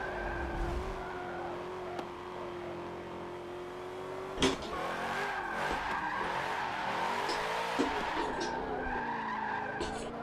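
A car engine in a racing video game drifts and shifts up into fourth gear, with a droning, rising engine note and long tire squeals, one sharp knock midway, loud and continuous.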